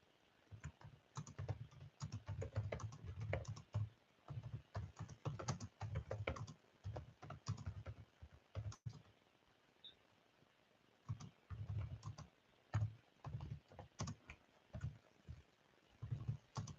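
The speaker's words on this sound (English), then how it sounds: "Let me type this." Fingers type on a computer keyboard in quick, irregular bursts of close clicking keystrokes, with short pauses between runs, quiet and alone without any talk.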